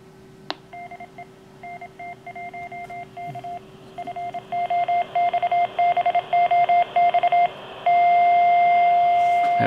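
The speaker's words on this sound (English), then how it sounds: "I have it saying a little tone so people can hear it." Arduino-powered foxbox transmitting over radio, heard as a string of short electronic tone beeps in bursts of varying rhythm, ending in a long steady tone, all loud and clear over a faint radio hiss.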